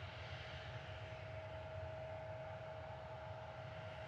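An airliner arriving at Reagan National Airport, its engines a steady distant drone with a thin constant whine on top, holding even throughout without voices.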